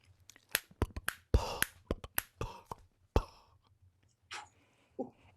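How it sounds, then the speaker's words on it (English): A man's finger snaps and lip, tongue and mouth noises: a loose sequence of sharp, close snaps and clicks, followed by a few softer breathy mouth sounds, all alone with no talking. "the human organic nature of my finger snaps and lips and tongue and mouth noises, kind of like this"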